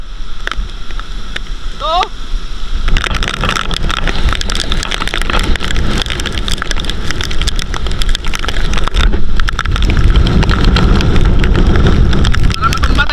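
Typhoon Tino making landfall, with a loud, unbroken roar of wind and rain battering the surroundings and gusts buffeting the microphone, while a person talks over it.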